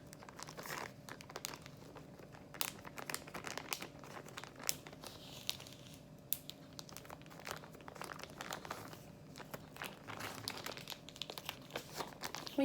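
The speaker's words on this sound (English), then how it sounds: "you will seal your bag" A plastic bag holding homemade ice cream ingredients being sealed and handled, with repeated crinkling and crumpling rustles in irregular bursts, close and fairly quiet throughout.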